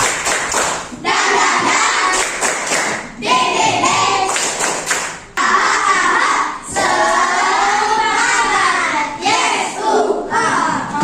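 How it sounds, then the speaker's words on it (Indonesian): A classroom of children doing an energetic ice-breaker clap, with rhythmic bursts of hand claps mixed with loud group chanting voices, close and lively in an indoor room. "Tepuk paling semangat."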